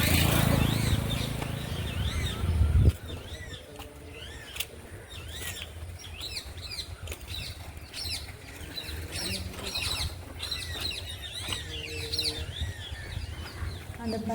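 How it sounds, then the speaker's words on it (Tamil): Birds chirp and sing outdoors in a natural setting, with short, repeated calls scattered throughout over a steady background hiss. "அந்த பறவையோட அழகாக இருக்குது."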